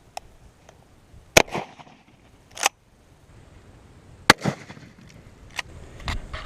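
Shotgun blasts firing double-aught buckshot into one-inch plywood about ten feet away crack out as a few sharp, loud reports, each followed by brief clatter and rattling.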